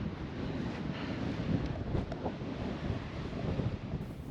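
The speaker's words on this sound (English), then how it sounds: "freaking windy" Strong coastal wind on the Aberdeenshire cliffs buffets the microphone in heavy, rumbling gusts, with a roar like surf behind it, loud and constant throughout.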